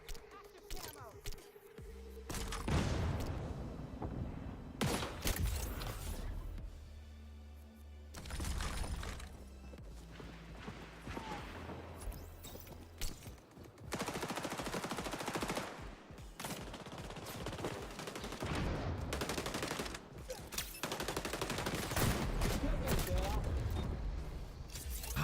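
Gunfire in the shooter game XDefiant: repeated rapid automatic bursts and sharp cracking shots come in clusters across the clip, some close and loud, with a voice talking between the volleys.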